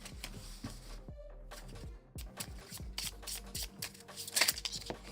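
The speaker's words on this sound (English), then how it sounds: "Did a little overhand shuffle and they went crazy." Slippery, textureless paper dialogue cards from a board game riffled in an overhand shuffle, giving repeated soft papery rubs and flutters at close range. A brief sharper burst of card noise comes near the end.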